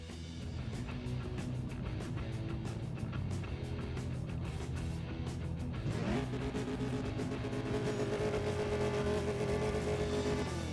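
Racing car engines roar steadily in the mobile drag-racing game CSR2, with a loud continuous drone and a rising rev sweep around the middle, backed by game music.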